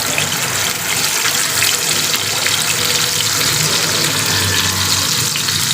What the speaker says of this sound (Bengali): লো জালে ভাজতে হবে, না হলে চাল কুমড়াটা সিদ্ধ হবে না।